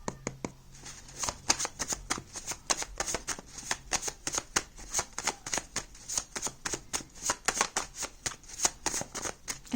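Tarot cards being shuffled by hand, a close, rapid run of crisp riffling flutters and soft slaps in quick repeated bursts, fairly quiet and continuing without speech.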